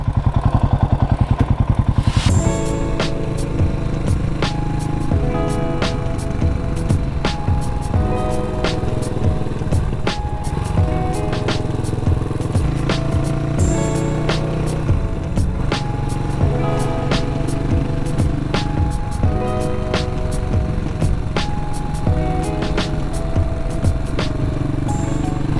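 A 400cc Cafe400 motorcycle fitted with a new aftermarket exhaust rides along, its engine droning steadily and fairly loud, with a revving start and a continuous rumble throughout, no voices.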